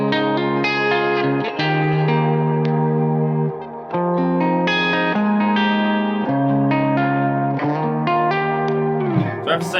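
A Gibson baritone SG electric guitar with its bridge humbucker split plays through effects, heard as a thin, slightly hollow tone. Chords and single notes ring out in a continuous, loud passage with echo and distortion, and nobody speaks.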